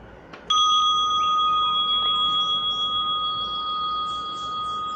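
A single meditation bell is struck once, sounding a clear sustained ring that slowly decays in a quiet room, with no talking.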